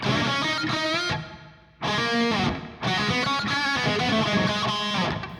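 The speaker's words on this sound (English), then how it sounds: "Nice cool room sound there." A heavily distorted electric guitar through the Audio Assault AHM 5050 metal amp simulator plays sustained chords, with a roomy reverb tail washing out between phrases.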